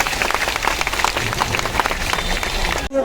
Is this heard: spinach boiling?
no